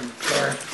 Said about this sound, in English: Angry dog.